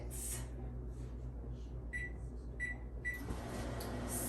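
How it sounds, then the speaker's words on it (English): A microwave oven heating chicken hums steadily at low level, with a few short electronic beeps near the end as it finishes, quiet and alone. "I'm going to microwave it for a few minutes"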